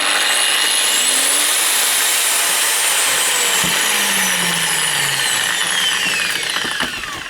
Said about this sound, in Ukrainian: Давайте послухаємо, як працює макіта